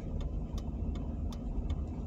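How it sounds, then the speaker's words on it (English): A car engine idles steadily while parked, a low continuous rumble with faint periodic ticks above it, beside a highway in Alabama. "I'm gonna put my car in park"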